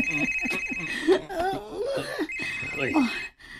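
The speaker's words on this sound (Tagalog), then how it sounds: "Nanawag man si Alejandro." A phone rings with an incoming call, a steady electronic tone running through much of the moment while people talk over it nearby.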